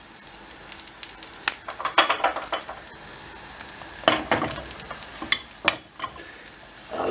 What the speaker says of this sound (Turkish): Şimdi sucuklarımızı böyle pişiriyoruz.